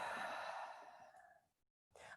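A slow, breathy exhale during a hatha yoga flow, loud at first and tapering off over about a second and a half, then a short silence before a fresh breath begins.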